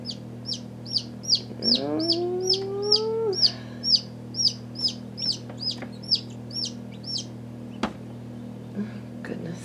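A newly hatched chick peeps over and over in a steady series of high chirps, close and clear, with one longer rising call near the start and a steady hum underneath.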